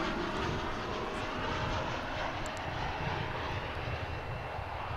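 A jet airliner takes off from runway 17 right at Dallas Fort Worth Airport, a steady, distant engine roar that holds for several seconds without voices.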